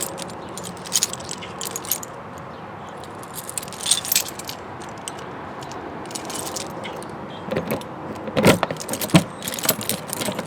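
A large bunch of keys jangles close by in short, repeated bursts, with a louder cluster of clinks near the end, over a low rumble from a vehicle beside a 2018 North Point 377RLBH fifth-wheel trailer.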